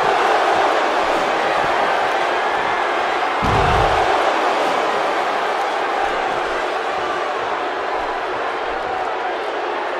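An arena crowd roars in the WWE 2K17 wrestling video game, a dense, steady wash of cheering with a heavy thud of a slam midway and commentators talking over it.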